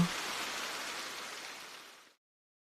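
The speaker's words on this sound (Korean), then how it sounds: "회사에서 일하는 동안에도 빗소리가 계속 들렸어요" Steady rain falls as an even, hissing wash of drops with no distinct individual hits, holding level before it fades and cuts off abruptly near the end.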